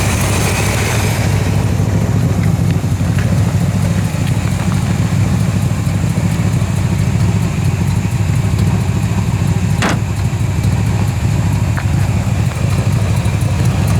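A 1974 Corvette Stingray with a big-block V8, four-speed and rebuilt carburetor idles steadily and loudly up close, a continuous low rumble throughout with no talk.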